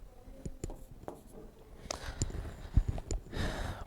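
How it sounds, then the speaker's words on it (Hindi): Chalk or marker strokes scratch across a board as a teacher writes the next point of a history lesson, a close run of short scraping marks with small pauses between them and no talk. "अगला पॉइंट लिखते हैं।"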